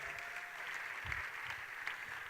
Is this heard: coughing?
no